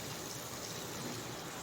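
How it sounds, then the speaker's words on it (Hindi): Water splashes and hisses steadily into a hot kadhai during home cooking of a spiced vegetable dish, a continuous close wash of noise with no talk. "अब हम कढ़ाई में थोड़ा सा पानी डालकर"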